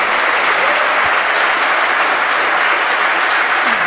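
A large audience at the 25C3 hacker conference applauds continuously, a dense, steady wash of clapping that holds at the same level throughout without any voices on top.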